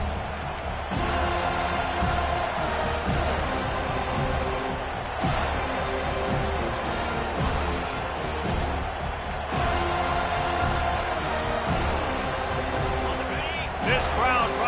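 A stadium crowd at an American football game roars steadily, a dense wash of cheering and noise under a play-by-play commentator's continuous talk.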